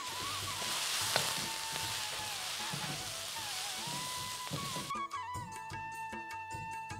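Beans stirred in a hot pan with grated coconut and curry leaves sizzle and crackle steadily and close up, with the scrape of stirring and a change in the frying texture partway through.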